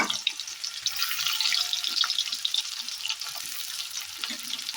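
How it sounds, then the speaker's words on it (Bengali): Onion pieces fry in hot oil tempered with bay leaf, dried chilli and cumin for ghugni, giving a bright, steady crackling sizzle at moderate level with occasional stirring clinks. "ফোড়ন থেকে ফ্লেভার বেরোচ্ছে দিয়ে দিচ্ছি পেঁয়াজের টুকরো"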